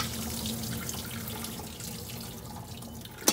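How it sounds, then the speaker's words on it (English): Hot water pours from a pot through a strainer of cooked Korean noodles into a sink, a steady close splashing stream that ends with a few sharp clatters. "Straining my noodles now."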